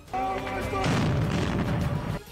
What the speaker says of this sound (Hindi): तभी पीछे से दौड़कर आए दूसरे चेचन लड़ाके ने फिर एक रॉकेट उसी दिशा में दाग दिया